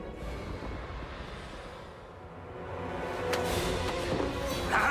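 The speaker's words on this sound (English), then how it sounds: "The music switches from slow, tense music to a dramatic, fast-paced music" Orchestral film score from a Pirates of the Caribbean scene in which Elizabeth is threatened plays continuously. It is dense and rumbling, shifting from tense to dramatic and fast-paced, and builds gradually with sharp accents near the end, heard at moderate distance.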